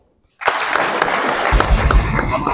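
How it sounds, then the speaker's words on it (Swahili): Applause from an audience at an official gathering starts abruptly after a brief silence and continues as a steady, dense wash of clapping, with a low rumble building toward the end. "makofi."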